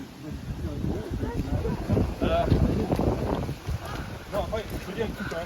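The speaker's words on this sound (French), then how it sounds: "Il y a beaucoup de vent par contre. Beaucoup de vent aujourd'hui." Strong wind buffets the microphone in a steady rumbling roar, with people talking over it throughout.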